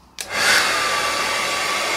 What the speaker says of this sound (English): can any of you see the air coming out of that hairdryer?